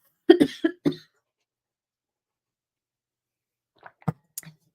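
A few harsh coughs close by in quick succession, then quiet, and later a couple of faint throat-clearing sounds.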